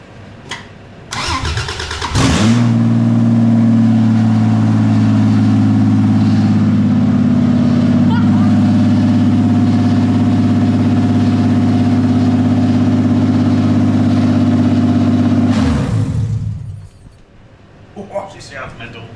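An engine fitted with open headers and no exhaust cranks, catches and then runs loud and raw. It settles into a steady rumbling idle for about thirteen seconds before it is cut off, and voices can be heard at the start and end.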